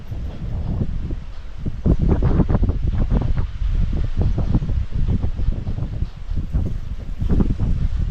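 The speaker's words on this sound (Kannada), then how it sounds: "ಎಷ್ಟು 3 ಗೇಟ್ ಓಪನ್ ಮಾಡ್ಯಾರ. ಹರಿಯತೈತಿ ನೀರು." Steady, loud roar of water rushing through three open gates of an old dam in Karnataka, with wind buffeting the microphone in gusts, continuous throughout.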